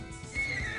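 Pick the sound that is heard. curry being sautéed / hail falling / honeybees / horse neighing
horse neighing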